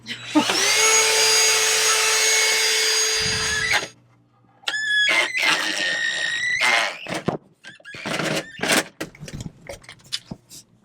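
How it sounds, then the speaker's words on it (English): A loud, steady high-pitched Dyson vacuum motor whine runs for a few seconds, then cuts off, followed by scattered clattering and shorter bursts of machine noise. "Let's use our Dyson vacuum"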